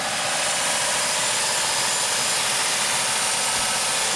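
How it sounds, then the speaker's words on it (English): A Dodge Caravan engine stuck at a high idle, a loud, steady, unbroken hum and whine close to the microphone with no pauses. "the car doesn't want to drop down to an idle because it thinks the throttle's open"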